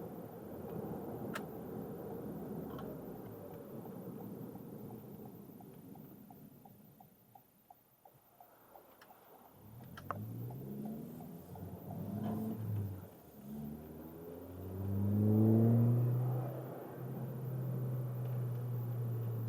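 From inside a Toyota Corolla hatchback fitted with a DC Sport catback exhaust, cruising in fourth gear at 51 mph just under 3,000 RPM, a faint, low exhaust hum swells into a deeper, steadier drone.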